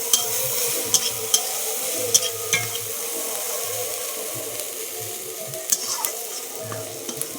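Bitter gourd, browned with green chilli and cumin tempering, fries with a steady sizzle in a pan while a spatula scrapes and stirs in repeated soft strokes, close and without voices.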